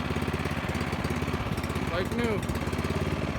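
A snowblower's small engine runs steadily at a rough, throbbing idle, close by and loud, while someone talks briefly over it.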